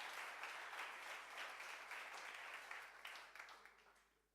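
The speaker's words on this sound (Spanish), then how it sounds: "Dale un fuerte aplauso al Señor entonces." Congregation applause during a church service: a dense, steady wash of many hands clapping, faint and distant, holding evenly before thinning and fading out toward the end.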